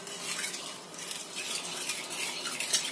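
A spoon clinks and scrapes against a bowl while nogosari batter of cornstarch, salt and vanilla is stirred, making quick close scraping and tapping sounds with no voices.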